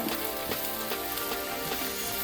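Crushed habanero pepper simmering in a pan for Jamaican beef patties, a close, steady bright sizzle with faint rhythmic crackles and no talk.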